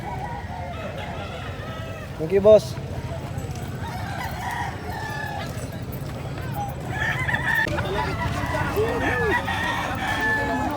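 Roosters and chickens at a poultry market in Bocaue, with crowing and clucking under nearby conversation among traders and buyers, plus some clattering and a steady hum of background activity.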